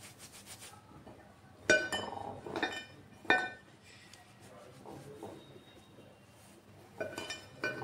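Kachori dough of whole wheat flour is mixed by hand in a bowl, with soft rubbing and squishing broken by several sharp clinks against the bowl, close and intermittent.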